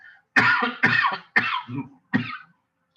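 Four harsh coughs in a close cluster, the first three quick and the last after a short pause, loud and near.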